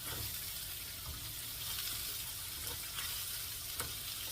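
Garlic, ginger and shallots sizzle in a wok over high heat for crab in XO sauce. The frying hiss is steady and close, with a few sharper crackles and no voices.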